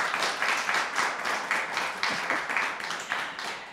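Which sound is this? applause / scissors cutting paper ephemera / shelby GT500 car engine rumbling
applause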